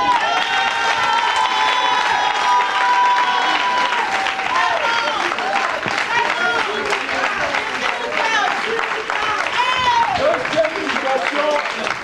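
A church congregation breaks into loud, sustained applause and cheering with scattered shouts and voices, filling the room from start to finish.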